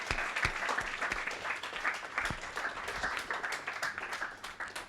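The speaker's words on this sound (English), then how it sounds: "Please, big round of applause for our 3 speakers." A live audience gives a round of applause for three speakers at a tech meetup, with steady, fairly dense clapping throughout at moderate volume.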